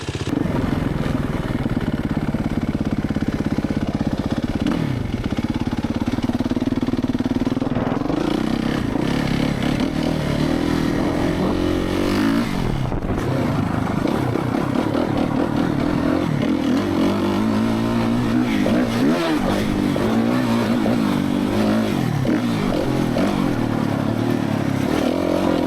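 A Suzuki RMZ450 dirt bike engine runs loud and close for the whole stretch, its revs rising and falling in repeated throttle blips over a steady mechanical clatter.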